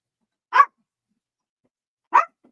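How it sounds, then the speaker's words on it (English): A dog gives two short, sharp barks spaced about one and a half seconds apart, close and clear against silence. "Stop. You're barking."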